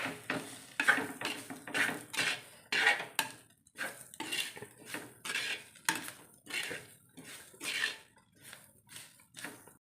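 A spoon stirs clams being fried with salt in a cooking pan, giving repeated scraping and clinking strokes in a steady rhythm, close and clear, with a faint sizzle underneath.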